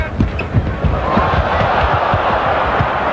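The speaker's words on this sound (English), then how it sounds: "I know you'll hear a cheer" A large crowd roars and cheers continuously at the 1989 NBA All-Star Game, a dense sustained wash of voices with occasional thumps underneath.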